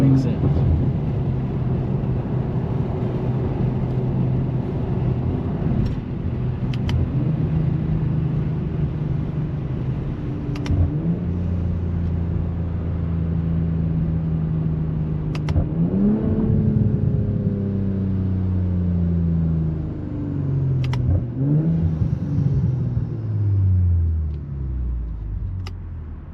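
A 400 hp BMW G20 M340i driving on the road, a steady engine rumble and road noise with several rising and falling revs as it speeds up and slows, under ongoing talk inside the car.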